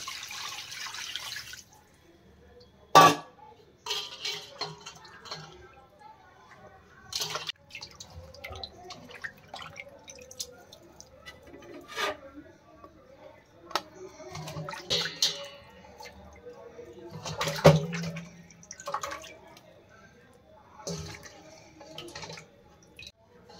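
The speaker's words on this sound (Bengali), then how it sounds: "এবার মাছগুলো একটা গামলায় নিয়ে আমি জল দিয়ে ধুয়ে নেব।" Pieces of katla fish are washed by hand in a bowl of water, producing close, intermittent splashes, drips and sloshes separated by quiet gaps, with no talking.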